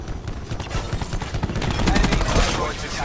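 Rapid bursts of video game gunfire crackle in quick succession, dense and loud, with automatic fire building toward the end of the short stretch.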